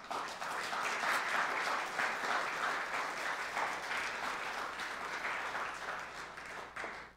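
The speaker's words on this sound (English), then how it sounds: "So why don't you give God the best clap that you can give him?" A church congregation claps together for God during an English-language Sunday service, a dense, sustained wash of many hands that holds steady for several seconds before tapering off at the end.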